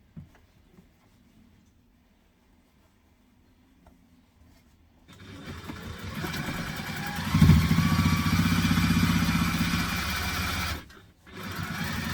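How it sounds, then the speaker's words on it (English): A sewing machine stitches the bottom of a teddy backpack, starting after a quiet stretch with a steady, close mechanical whir that runs for about five seconds, pauses briefly, then resumes. "Now I'm going to stitch on the bottom"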